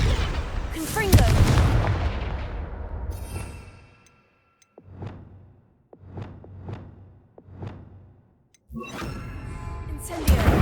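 Confringo fire blasts from Hogwarts Legacy boom out several times: a loud opening explosion, then a quieter run of four rhythmic bursts, then another heavy blast sequence at the end.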